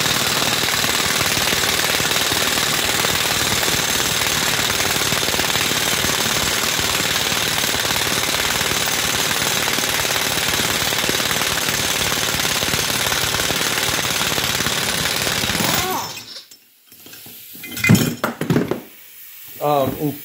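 Impact wrench hammering a two-jaw puller down on a Ford Festiva steering knuckle held in a vise, a long continuous rattling burst, then it stops and a few clunks and a voice follow.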